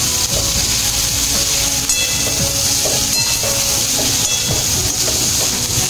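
Finely chopped cabbage sautéed in a hot pan for spring rolls, a loud continuous hissing sizzle with occasional faint stirring clinks and scrapes, steady and close throughout.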